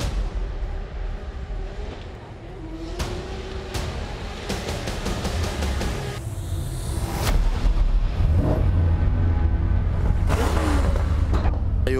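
Drift cars of 60 to 70 thousand horsepower race at a DMEC event in Riga, their engines roaring loudly as they rev and whoosh past, with the rumble growing heavier toward the end.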